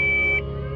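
A car's airbag warning buzzer sounds as a steady, loud electronic tone that cuts off partway through, leaving a lower hum running underneath.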